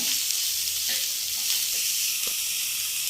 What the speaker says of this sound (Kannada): ಕ್ಯಾಬೇಜ್ ಮತ್ತು ಕ್ಯಾರೆಟ್ ಹಾಕೊಳ್ಳೋಣ. ಇದನ್ನು ಸ್ವಲ್ಪ ಫ್ರೈ ಮಾಡ್ಕೊಳ್ಳೋಣ